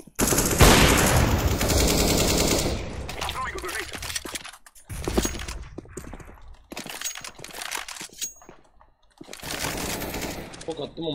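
Gunfire in the video game CS:GO, dense bursts of rapid automatic shots and cracks filling most of the stretch, loud and close, with pauses between volleys and voices talking over it.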